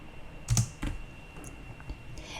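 Keys click on a computer keyboard as a new layer name is typed, a few close, sharp taps with one louder cluster early, then lighter scattered strokes in a quiet room.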